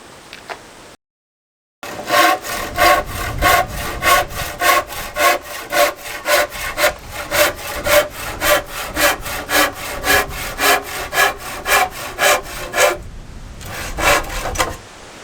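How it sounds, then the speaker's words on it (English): Spare hardwood flooring cut into sidings with a hand saw: a fast, regular run of rasping back-and-forth strokes, loud and close, broken by a short pause near the start and a brief gap before the final strokes. "I've got a heap of sidings to cut up now out of spare hardwood"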